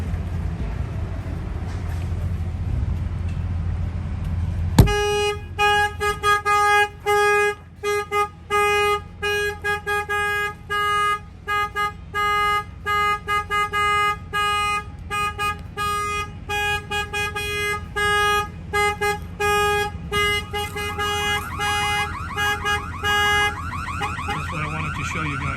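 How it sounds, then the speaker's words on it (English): A 2022 Peterbilt truck's alarm blares loud and close, a steady electronic siren cycling through rapid stuttering pulses and changing tones for over twenty seconds after a soft background hum. "this alarm was installed here in Miami, Florida by Auto Alarm Specialists"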